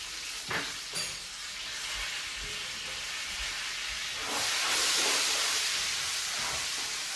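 Garlic sizzles steadily in a hot pan, starting with a few sharp pops and crackles and then rising into a louder, hissing fry.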